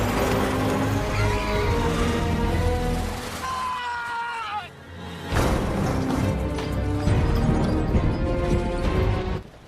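A van crashes in a film scene: tense music and engine noise build, then a heavy smash and scraping impact, followed by more dramatic score and rumbling.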